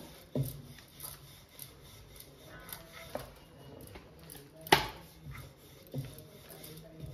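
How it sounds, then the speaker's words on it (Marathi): A rolling pin works just the edges of layered wheat flatbread dough on a board, giving soft, close rubbing and rasping strokes broken by a few sharp wooden knocks, with no talking. "छानपैकी अशी आपण फक्त काठ लाटून घ्यायचे"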